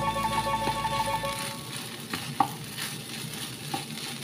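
Garlic fried rice (sinangag) is stir-fried in a pan with a steady sizzle and scraping strokes, one sharper clank partway through, and soft music fading out early on.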